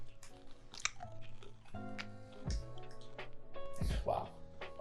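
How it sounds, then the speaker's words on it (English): A Jollibee peach mango pie being bitten and chewed up close, crisp crunches and wet mouth sounds in an irregular rhythm, with voices talking in between. "Any other time you give me this peach mango pie, it's a treat. Now I have to eat it."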